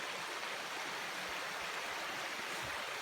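Steady broadband rush of a stream flowing beside a hiking path, continuous and fairly close, with a few low thumps but no talk.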